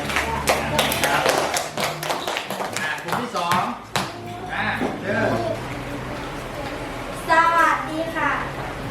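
Fourth-grade schoolchildren clap for classmates during a science lesson, a burst of dense, uneven clapping mixed with children's voices and chatter, followed by the teacher talking.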